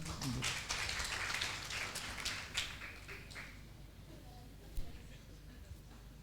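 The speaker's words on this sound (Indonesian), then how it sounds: "Mari kita kasih tepuk tangan tuh." Applause from a church gathering, loud dense clapping at first that thins and fades over several seconds, with scattered claps and voices lingering at the end.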